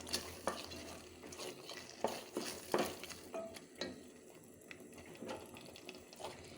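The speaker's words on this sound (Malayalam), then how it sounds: "ഇനി നന്നായി ഇളക്കാം." Sago halwa with fried cashews is stirred in a pan, a spoon scraping and slapping through the thick mixture in irregular strokes, faint and close with a light sizzle underneath.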